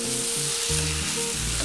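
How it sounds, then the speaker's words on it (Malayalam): Coconut, sugar and milk mixture bubbling and hissing in a pan as it is stirred, a dense steady sizzle with faint tonal hum underneath and no voices. "ഇത് നന്നായിട്ടൊന്ന് യോജിപ്പിക്കാം."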